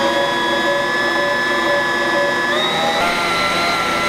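Soft pretzel dough is kneaded by an electric mixer whose motor drones loudly and continuously, its pitch rising slightly partway through, alone without speech.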